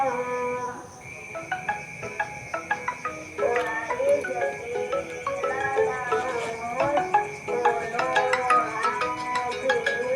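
A synthetic phone ringtone plays a repeating melodic pattern of bright tones, steady and fairly loud, with faint background noise throughout.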